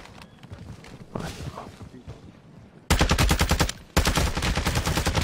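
Gunfire in a video game battlefield: faint movement and shuffling at first, then loud, rapid bursts of shots that pause briefly and resume, close and dominant with no talking.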